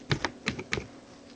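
Keys are pressed on a computer keyboard for the Ctrl+S shortcut, giving four crisp, close clicks within about a second, then quiet.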